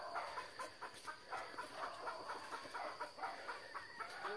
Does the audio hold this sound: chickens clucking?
yes